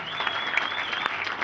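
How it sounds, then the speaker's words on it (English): An indoor audience breaks into a short burst of dense, steady applause, many hands clapping together at moderate loudness for a brief moment. "the guys are saying, clap a bit better for Simon"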